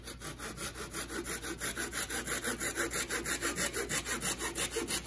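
A small thin hand saw cuts through plywood in quick, even back-and-forth strokes, close and steady throughout with no talking.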